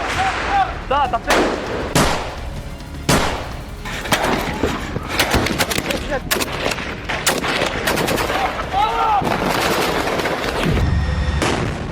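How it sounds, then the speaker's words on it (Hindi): Gunfire from the war in Gaza: dense bursts of loud, sharp cracks and rattling shots, some rapid like machine-gun fire, with occasional heavier booms, continuous across the whole stretch with no talk. "न जमीन से आती गोलियों की तड़तड़ाहट खामोश हो रही है"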